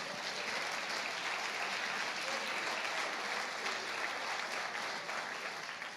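A church congregation applauding, dense sustained clapping from many hands filling the room evenly for the whole stretch, fairly loud and unbroken.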